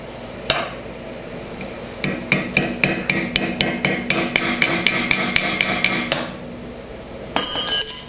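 A part being tapped into place on a John Deere 1032 snowblower, a run of about twenty sharp metallic hammer taps in a quick, even rhythm, close and loud, with a short pause before a final few strikes.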